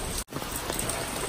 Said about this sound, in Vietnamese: Hiện tại bây giờ thì mưa khá là to các bạn ạ.